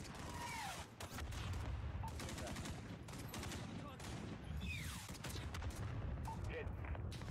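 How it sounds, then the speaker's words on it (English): In Call of Duty Modern Warfare, a missile launches and dense battle noise follows, with rapid gunfire bursts, whooshes and booms that overlap throughout, heard faintly. "Missile out."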